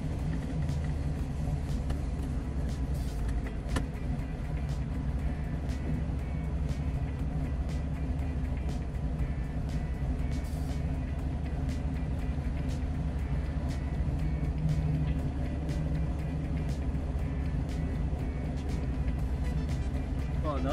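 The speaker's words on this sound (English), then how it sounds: "We're in the Malibu. We're for a little test run before we go to the track." A 1978 Chevy Malibu on a short test drive on freshly fitted tires, its engine a steady low rumble heard from inside the car throughout, with people talking faintly under the drone.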